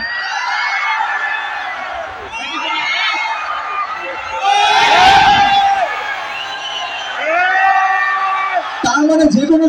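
A large crowd shouts and whoops in swelling waves on a conductor's hand cue at a gathering in Comilla, rising to a loud peak mid-way, dipping, then surging again, with many voices mixed together.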